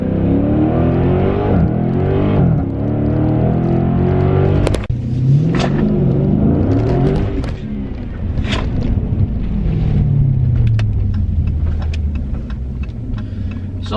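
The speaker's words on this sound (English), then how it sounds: "Launch control, activate. Remember, that's full throttle right now." Dodge Challenger/Charger Scat Pack at full throttle under launch control, the engine roaring loud and close as it pulls hard through rising revs, with brief drops between gear changes.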